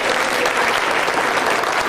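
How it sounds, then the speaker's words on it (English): A convention crowd at a sci-fi fan event's opening ceremony breaks into loud, continuous applause, a dense wash of clapping that stays even for the whole two seconds. "Let's give him a big round of applause."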